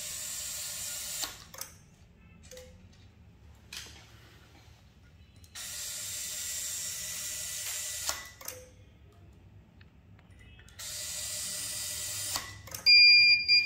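A screw counter used with a timed screwdriver sounds its no-good fail alarm, three sustained buzzing tones of a few seconds each separated by quiet gaps with mechanical clicks, followed by a brief burst of short beeps at the end.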